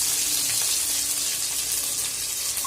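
Curry leaves and green chilies sizzle in hot oil with mustard seeds and cumin, a steady close crackle and hiss with faint popping throughout.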